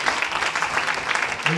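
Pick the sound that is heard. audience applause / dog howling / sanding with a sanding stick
audience applause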